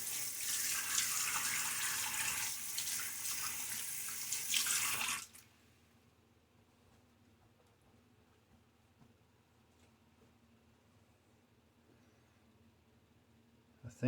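Tap water running into a sink while rinsing the face during a wet shave, a close steady splashing stream for about five seconds that stops abruptly, leaving quiet room tone.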